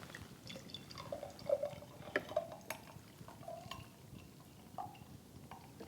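Italian salad dressing pours into a pint glass jar for a camping pasta salad, a faint, quiet trickle with soft drips and small splashes and no talking.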